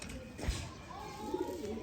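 A Sialkoti pigeon coos softly at close range, a couple of low, rolling calls over a faint background hiss, with no speech.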